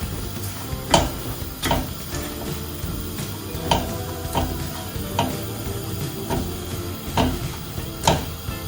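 Strawberries and sugar are stirred in a pot for homemade jam, giving a steady rhythm of soft scraping strokes roughly every second over a low background hum, close by and with no talking.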